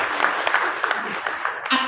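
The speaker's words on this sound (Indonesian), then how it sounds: "Tepuk tangan lagi untuk Pak Sekda." Audience at a Semarang LPTQ Quran-recitation program meeting clapping for the regional secretary, a dense, steady burst of many hands lasting a couple of seconds, loud and close.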